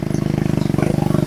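A motorcycle engine runs close by, its exhaust giving a steady, rapid train of even thumping pulses with no change in pace.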